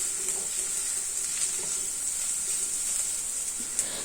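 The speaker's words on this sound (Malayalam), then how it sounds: "നന്നായിട്ട് അതിൻ്റെ പച്ചമണം പോകുന്ന വിധത്തിൽ നന്നായിട്ട് വഴറ്റിയെടുക്കുക" Ingredients for dahi tadka are sautéed in a pan, giving a continuous close sizzle and hiss with faint stirring scrapes and no voices.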